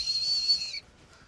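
A person whistles a single steady high note for just under a second, fairly close and clear, then it stops abruptly into quiet room tone.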